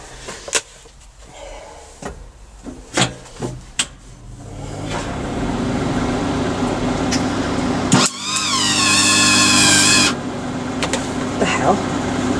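A repaired Sip MIG welder welding metal gives a building crackle and hiss that swells into an intense, harsh burst for a couple of seconds before settling back, with a person talking and a few knocks beforehand.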